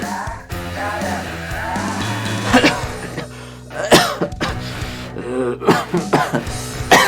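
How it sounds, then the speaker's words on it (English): Someone coughs repeatedly in harsh, throaty bursts, with throat clearing and gasps between fits, close and loud over a background hum. "Now I am actually coughing."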